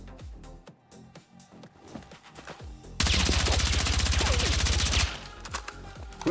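Suppressed gunfire from a standard suppressor in the video game Battlefield 6, a dense rapid automatic burst lasting about two seconds, loud and close, after scattered quieter shots and background game sounds.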